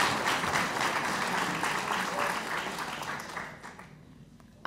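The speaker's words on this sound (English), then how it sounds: "please give a big round of applause to Miss Lara Sawyer." A large crowd applauds steadily for a few seconds at a press conference in Rome, then the clapping fades out toward the end.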